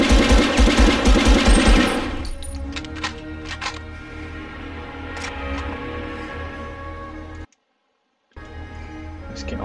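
Rapid automatic gunfire from the 1999 PS1 game Medal of Honor, a loud dense burst at first, then scattered softer shots and ticking over continuous game noise, with a brief dropout of sound near the end.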